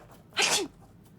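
A single short, sharp sneeze from a character in the video game Murder in the Alps, close and clear against a quiet background.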